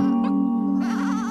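A single sheep bleats loudly over a steady low hum, its wavering cry filling the second half.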